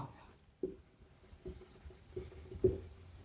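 Chalk or marker writing on a board during a science lesson, a few short faint scraping strokes in a quiet room.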